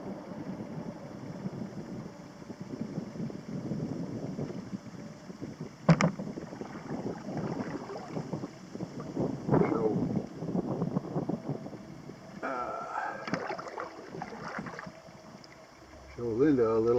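Wind buffeting a microphone while paddling a canoe on Clear Lake, gusty rumbling noise with scattered knocks and water sounds, and a voice speaking at times.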